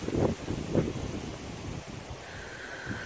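Gusts of wind buffeting outdoors in Nicaragua, rumbling in uneven surges that rise and fade, with a faint steady whine in the background.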